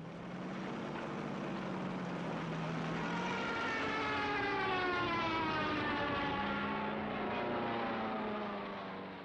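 A Soviet Red Air Force propeller aircraft in WWII archive footage drones in a sustained, even engine hum with a wavering pitch that swells slightly midway and then holds steady.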